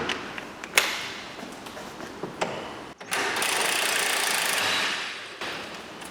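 An impact gun whirs steadily for about two seconds as it spins out a bolt on the front brakes of a Peugeot 208. Several sharp taps and knocks come before it, all close and fairly loud.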